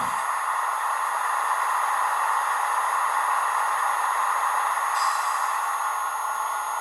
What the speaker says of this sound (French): F9 compresseur